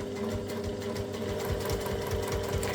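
Domestic sewing machine topstitching near the edge of fabric, running steadily with a fast mechanical needle patter over a soft motor whir, close and fairly quiet, no talking.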